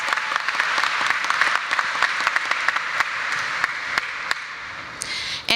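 Sustained audience applause at a 2016–2017 university commencement ceremony, a dense steady wash of many hands clapping throughout, with a few sharper individual claps standing out near the end.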